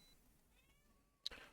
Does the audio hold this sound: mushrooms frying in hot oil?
no